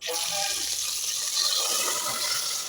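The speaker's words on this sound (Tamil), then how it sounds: "கொஞ்சம் தண்ணி விட்டு" Water pours steadily into a cooking pan of spluttered mustard seeds and broad beans, with a continuous hissing splash, close by and fairly loud throughout.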